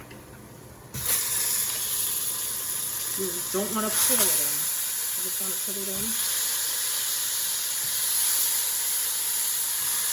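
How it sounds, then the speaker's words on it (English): A steady hiss and sizzle of oxtail meat frying in a hot pan, constant throughout, with a person talking over it briefly. "Let it sizzle."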